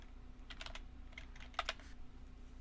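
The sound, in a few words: typing on a computer keyboard into a search box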